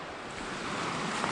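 Stover Creek on the Appalachian Trail rushes steadily near a footbridge, a continuous broadband wash of flowing water with no pauses and no voices.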